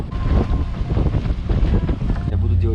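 Wind and sea waves buffet an expedition boat, a steady, loud broadband rush with gusty low rumble filling the whole stretch, and a few faint voices underneath.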